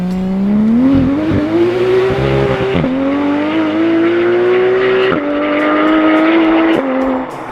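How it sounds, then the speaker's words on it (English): A Porsche 911 991.1 GT3 RS race engine screams at full throttle in a forest, pitch climbing through repeated gear shifts with sharp breaks between them, loud and close. "the forest air is filled with the sound of a raging race engine"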